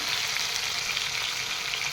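Ginger, garlic, green chili and coriander paste frying in a pan while being stirred, a dense, even sizzle heard up close without pause.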